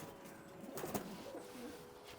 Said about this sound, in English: I'll show you now the best pigeon I've ever owned